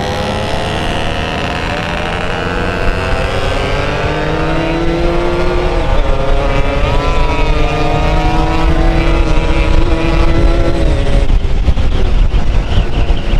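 A small 2002 Yamaha F1ZR two-stroke motorcycle engine revs loudly and speeds up, its pitch climbing in waves as it accelerates close by.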